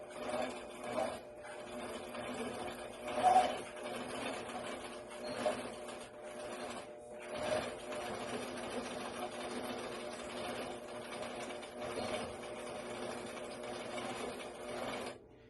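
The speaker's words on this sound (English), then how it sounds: "now you want to stitch right straight down to about an inch away from the bar" A sewing machine stitches through a quilt with batting, a steady mechanical whir with a few louder swells, running continuously with no talk.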